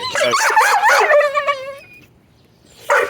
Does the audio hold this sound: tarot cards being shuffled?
no